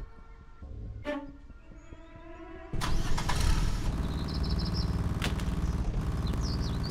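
An engine cranks and catches in the horror game Lakeview Cabin, a sudden loud burst that settles into a steady, busy running rumble with sharp clanks and tones layered over it, preceded by quieter game sounds.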